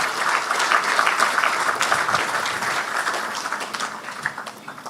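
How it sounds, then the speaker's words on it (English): An audience applauds the Gros Islet Police at the official opening ceremony of their divisional headquarters, with dense, steady clapping that holds loud throughout and eases off only slightly near the end. "Ladies and gentlemen, let's give the Gros Islet Police a round of applause."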